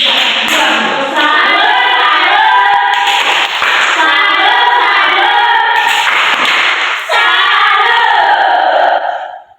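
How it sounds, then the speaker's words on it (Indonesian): Loud classroom crowd of children clapping and shouting in applause for a student during a primary school social studies lesson, a dense continuous burst with rising cheers throughout. "Oke, tepuk tangan untuk nomor 3."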